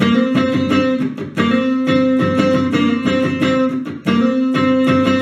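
A distorted electric guitar plays a verse riff. Loud, rhythmic chords and notes are cut by short muted breaks, with no talking.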